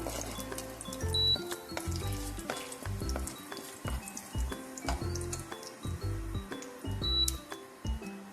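Cracked cardamom fries in oil and is stirred in a pan, a quiet, uneven sizzle with intermittent clinks and scrapes from the utensil, and no talking.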